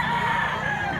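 A White Leghorn rooster crows close by on a small backyard flock, one sustained, loud call with a strong tonal line that holds steady across the whole moment, over a bed of low rural background noise.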